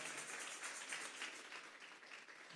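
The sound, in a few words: congregation applauding in church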